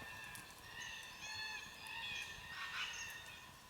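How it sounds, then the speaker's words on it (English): Distant red-tailed black cockatoos calling as they fly overhead at sunset in the bush, a series of harsh, wavering cries drifting across a quiet outdoor backdrop. "Red-tailed black cockatoos doing a flyover."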